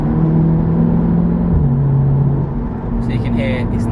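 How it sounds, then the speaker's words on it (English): An Audi S3 8V facelift with a Milltek non-resonated catback exhaust accelerates, heard from inside the cabin as a steady low drone that shifts pitch slightly, with a brief voice near the end. "You can hear obviously the exhaust sound when I press it"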